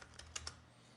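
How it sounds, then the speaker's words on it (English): Keys tapped on a computer keyboard to enter a value in Adobe After Effects, a few quick clicks in a short burst, quiet and close, with no voices. "so just type it in."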